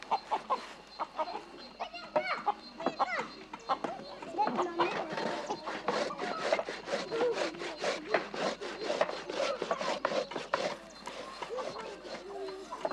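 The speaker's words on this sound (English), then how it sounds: "they make the manioc into flour by grating it" Manioc root grated into flour by hand in a Panare village in Venezuela, a steady rhythmic rasping scrape repeating fast and close, with voices and rooster clucks in the background.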